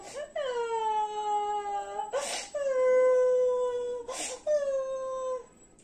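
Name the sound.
crying sound effect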